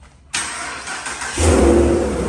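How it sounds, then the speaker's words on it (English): A car engine fires up by remote start from a key fob, a sharp crank followed by a steady idle rumble, close and loud with no talking. "when I hit the middle button, it's gonna remote start the car"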